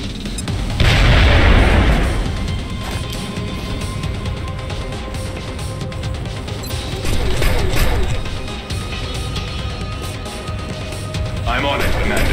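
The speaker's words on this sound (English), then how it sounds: "Grenade." A grenade goes off with a loud, deep boom in the video game XCOM: Enemy Within, followed by rumbling battle noise and later weaker blasts and clatter.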